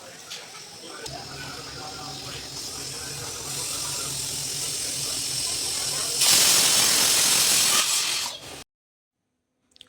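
A pressure cooker cooking avarebele (field bean) sambar releases steam in a steady, loud hiss that builds and swells louder for a couple of seconds near the end, then cuts off abruptly to silence.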